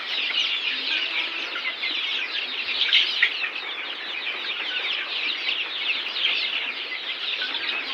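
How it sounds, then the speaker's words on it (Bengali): Month-and-ten-day-old native chicks cluck and cheep continuously and fairly loudly while eating a boiled mixed feed, a dense, busy chorus with no talking. "মুরগির বাচ্চাগুলা ভালোই খাইতেছে"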